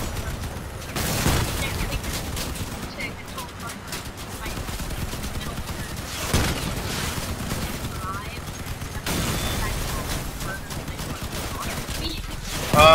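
Machine gun fire in the vehicle combat game Crossout, bursts of gunfire and explosions running steadily throughout, loud and dense, mixed with players talking over the action.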